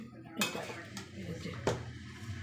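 A ladle scrapes and knocks inside a cooking pot as mutton biryani is stirred and lifted, with two distinct metallic clunks over a low background. A voice speaks faintly.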